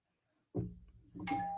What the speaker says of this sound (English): See if he rings the doorbell.